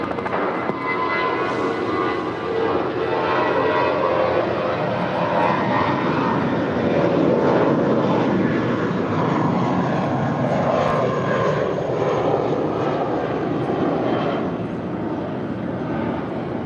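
Airliner taking off from runway 25 right at LAX: a loud, continuous jet engine roar that stays steady and broad for the whole stretch, with faint radio talk underneath.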